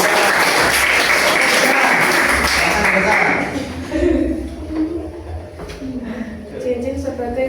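Applause from a gathering at an Indonesian talk about marriage customs, dense clapping for the first few seconds that fades out, followed by a low hum and scattered room noise.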